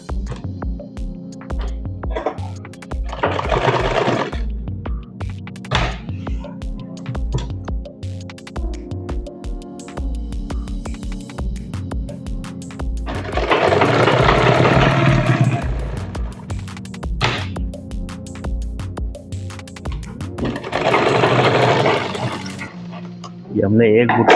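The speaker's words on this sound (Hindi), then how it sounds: "अब हमें एक बूट की सिलाई लगानी है।" Sewing machine stitching a boot seam on a garment in bursts of rapid mechanical whirring, each run a few seconds long, with a person speaking between the runs.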